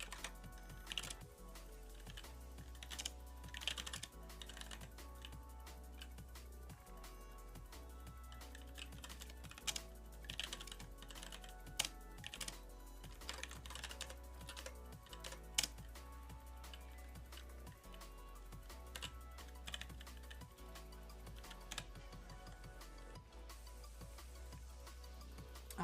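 Someone types on a computer keyboard at a desk, producing a continuous stream of soft, irregular key clicks under a low steady hum, fairly faint and with no talk.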